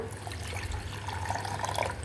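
Water trickles and pours softly into a container to make pani for pani puri, a quiet liquid splashing that lasts a couple of seconds.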